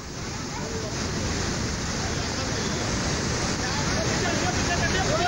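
A strong river current in Kangra, Himachal Pradesh rushes in a steady, loud, broadband roar of churning water that holds unbroken throughout.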